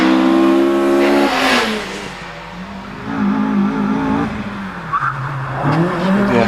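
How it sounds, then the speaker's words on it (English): A Citroen Saxo VTS race car launches off the line at a British Championship hillclimb at Prescott, its engine revving hard and rising through the gears with a brief tyre chirp, loud and close. "Bruce Aitken sits on the line in the Citroen Saxo VTS, and away he goes."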